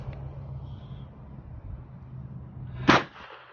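A single sharp gunshot from an American Derringer M25 pistol cracks loudly near the end, after a few seconds of low background hum, then quickly fades.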